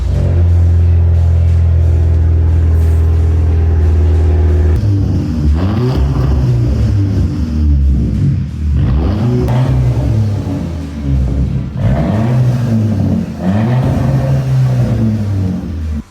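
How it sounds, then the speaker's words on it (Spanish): Audi TT turbo engine starting in a workshop, then running with a steady low rumble and repeated revs swelling and falling, loud and close with no talk. "el sonido característico del motor turbo resonando por todo el taller"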